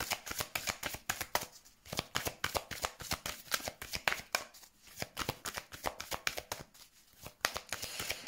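Angel advice oracle cards being shuffled by hand during a card reading, a quick, steady run of crisp riffling flicks and soft slaps that continues without a break and without any voice.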